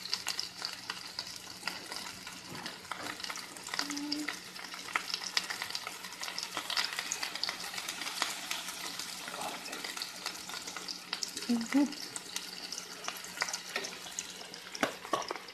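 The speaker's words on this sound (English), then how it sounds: "So it should sizzle right when you put it in." Steady crackling sizzle of Parmesan-crusted pork chops frying in hot oil over medium-high heat, dense and continuous, with occasional clinks and scraping from a utensil.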